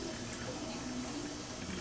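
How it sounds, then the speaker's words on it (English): Water runs steadily into a container being filled for home beer making, a close, continuous rushing splash with no voices. "The trick is to get this full of water,"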